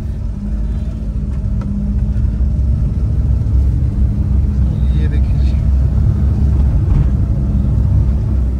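A Suzuki Alto VXR 660cc automatic on a test drive gives a steady, close, loud engine rumble and road drone throughout, with people talking over it.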